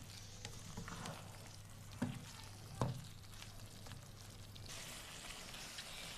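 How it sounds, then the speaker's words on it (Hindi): Drumstick pods being fried with meat and masala for suhanjana gosht, a soft steady sizzle with faint crackles and a couple of clinks of stirring, quiet and close, no talk. "हमने सुहांजने को इसमें अच्छे से भूनना है कि सारा मसाला इसमें अच्छे से जज़्ब हो जाए।"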